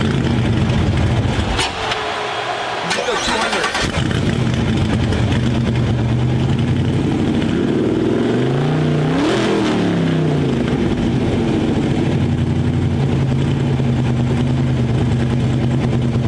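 The engine of a Pontiac Fiero Indy 500 pace car idles steadily and then revs up and falls back, a loud, continuous rumble close by with a brief dip partway through.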